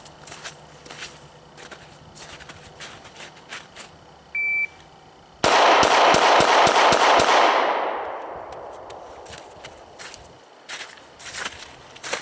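An S&W M&P 9 Shield pistol fired rapidly: a short electronic beep, then seven loud, tightly spaced shots in under three seconds, the last one ringing out and fading before quieter shuffling sounds.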